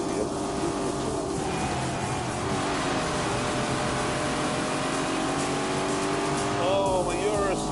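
Lamborghini Urus SUV driving and accelerating, a steady engine drone rising in pitch under continuous talk.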